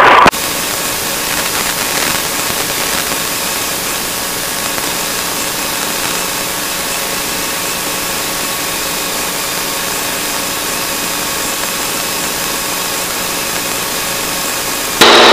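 Small airplane engine at takeoff power on a runway, a steady loud broadband drone with dense tonal hum holding evenly throughout, with no talk.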